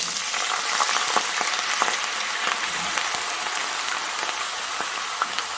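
Potatoes frying in a pan, a steady dense sizzle with scattered crackles and pops throughout, close and fairly loud with no voices.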